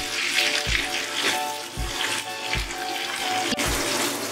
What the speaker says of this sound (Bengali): টমেটোটাকে একটু নাড়াচাড়া করব যতক্ষণ না টমেটোটা একটু নরম হয়ে যাচ্ছে